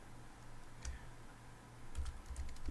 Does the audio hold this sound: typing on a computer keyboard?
yes